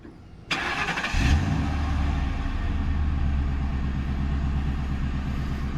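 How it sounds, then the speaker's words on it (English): A stock P71 Ford Crown Victoria with its factory exhaust cranks over briefly, then catches and settles into a steady, deep, rumbling idle that continues to the end. "let me show you what a stock exhaust sounds like on a stock P71 Crown Victoria."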